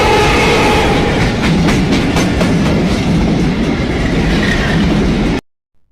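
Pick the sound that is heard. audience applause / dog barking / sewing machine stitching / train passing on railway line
train passing on railway line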